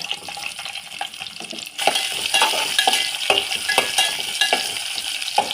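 Shahjeera, bay leaf, mustard seeds, cumin, green chillies and onions sizzle loudly in hot oil, with stirring and scraping throughout; the frying grows louder and busier after a sudden addition partway through.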